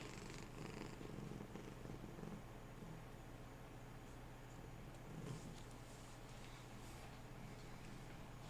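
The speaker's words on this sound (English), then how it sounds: "Y'all hear that? He's a happy fucking cat." A contented pet cat purrs close by in a steady, continuous low rumble that holds evenly the whole time, with no talking over it.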